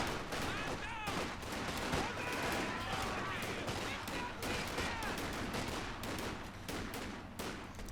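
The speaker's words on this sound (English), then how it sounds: "machine gun in this garrison, just locking down this region" A garrisoned machine gun fires in the Company of Heroes 2 strategy game, a dense run of rapid, sharp bursts throughout amid battle noise, with a commentator's voice talking over it.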